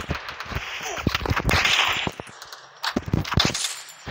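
Sharp gunshots from a first-person shooting video game fire in short, snappy bursts, crisp cracks spaced with brief pauses, fairly close and loud with almost no talk over them.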